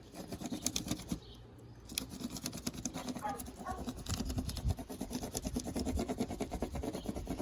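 Paper rubbed over a leaf to make a leaf print, producing a rapid, rhythmic scratchy rasp from close by that pauses briefly and then carries on in steady back-and-forth strokes.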